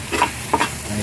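Corned tuna with egg sizzles and bubbles in a pan, a soft steady frying hiss with a couple of brief stirring scrapes over about a second.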